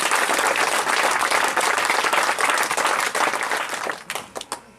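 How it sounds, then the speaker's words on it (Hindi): Loud, dense audience applause fills a business seminar hall, sustained and even before thinning into a few scattered final claps. "एक बार ताली हो जा रही है जोरदार"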